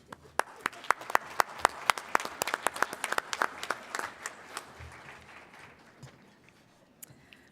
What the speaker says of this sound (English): So let's give one more round of applause to our top scholars and Shining Apple teachers